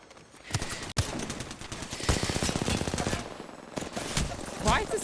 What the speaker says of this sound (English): that kid just doesn't stop shooting